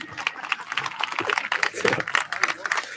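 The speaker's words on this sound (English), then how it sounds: "we recognize them with a round of applause?" Graduation crowd at a Middletown, Rhode Island high school applauding the school staff, a dense steady wash of many hands clapping with scattered cheers, filling the space evenly throughout.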